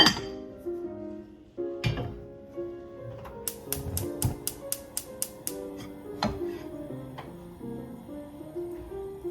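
Metal cookware clinks as a pot is covered with a lid while cooking fish, a series of bright, ringing taps and clanks, close and moderately loud, over quiet kitchen background.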